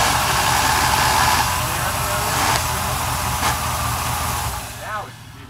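A Chevrolet Suburban engine, just fitted with a replacement starter, runs at a steady idle, loud and close, with a few brief clunks and a slight drop in level near the end.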